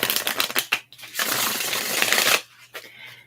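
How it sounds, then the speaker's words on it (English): Cards being shuffled by hand in a quiet room, a few quick riffles and taps, then one sustained, louder riffle lasting about a second, followed by softer card handling and a faint low hum. "just wait there patiently while I shuffle the cards"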